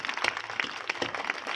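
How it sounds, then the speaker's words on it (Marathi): Audience at a kirtan gathering clapping together in a steady, rhythmic beat, moderately loud and close, with no voices over it. "टाळ्या वाजवा."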